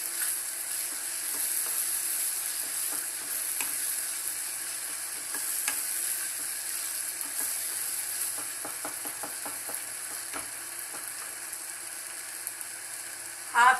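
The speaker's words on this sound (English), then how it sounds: "Add ginger garlic paste, 1 teaspoon ginger garlic paste." Ginger garlic paste fries in a pan for a Mangalorean-style egg roast, giving a steady close sizzle with scattered scraping and stirring clicks, ending in a short louder scrape.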